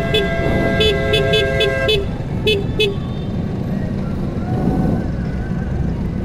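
A car horn toots in a quick string of short, sharp beeps, then two more, at a Chicago scooter rally where scooters block the road. Traffic rumbles close by and voices can be heard.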